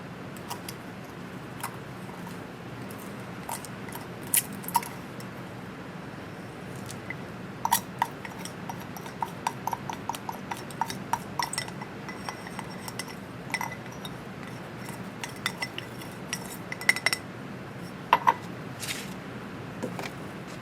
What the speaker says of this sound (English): Put the mixture in. Okay, compact it. And the beaker works nice for that too.